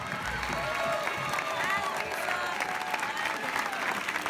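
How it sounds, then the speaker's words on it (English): A crowd at a Lindy Hop dance event applauds steadily and loudly throughout, dense clapping with some cheering mixed in. "Give them a big round of applause."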